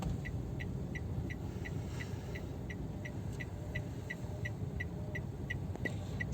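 During a driving lesson, a car turning left gives a low, steady engine rumble from inside the cabin while the turn signal clicks in an even, rapid rhythm throughout.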